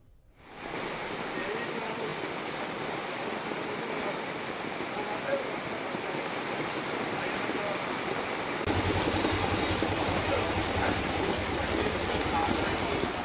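Heavy rain pours down in Hyderabad, a dense, continuous hiss of falling water that swells noticeably louder partway through and stays steady to the end.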